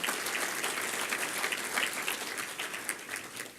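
An audience at an awards banquet keynote speech claps steadily, a dense wash of applause that holds throughout and tapers slightly at the end.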